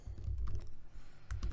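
Someone types on a computer keyboard while entering an Excel XLOOKUP formula. Quick, close key clicks come in a brisk burst, with a short pause and then a few more taps, and no talk.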